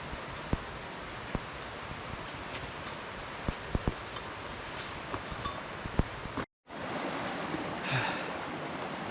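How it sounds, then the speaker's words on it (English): A small creek flowing along a bushcraft hiking trail, heard as a steady, close wash of water that continues without break, with a brief dropout partway through. "Not too bad, just a little creek."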